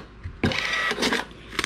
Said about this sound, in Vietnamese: Khi mà các bạn in ra thì cái máy in nó sẽ tự động cắt giấy cho các bạn luôn nha.